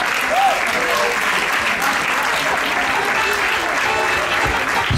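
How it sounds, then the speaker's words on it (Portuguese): Steady applause from a stadium audience for a 400m women's athlete at an athletics meeting in Maia, with dense clapping and a little crowd noise holding at even loudness throughout. "Uma salva de palmas para ela."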